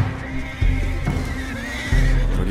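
Horses neigh and whinny in panic in Red Dead Redemption 2, loud and close, with sharp bursts of startled calls over a low rumbling game soundscape and a hint of hoof clatter.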